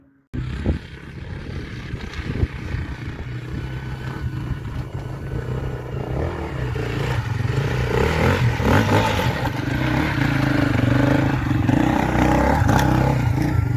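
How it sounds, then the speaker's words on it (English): A Beta 390 dirt motorcycle runs laps over a rock pile, its engine droning and revving continuously and growing louder and nearer, with clattering over the rocks. "we're all going to do a few laps and see what this bike can do"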